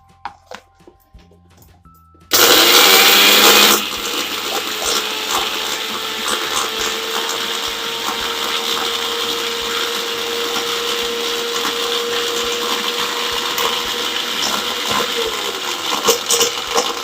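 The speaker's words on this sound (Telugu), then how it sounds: "ఇది ఇప్పుడు మిక్సీ పెట్టేస్తాను మీకు." A mixer grinder blends raw mango chutney ingredients with salt, starting after a quiet moment with a loud burst and then settling into a steady, continuous whirring grind that runs to the end.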